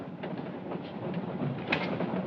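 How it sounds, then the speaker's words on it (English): Steady rumbling of a train running on rails, a continuous dense roar with faint rhythmic clatter and one brief louder bump, heard alone without voices. "It's alive in someone on this train."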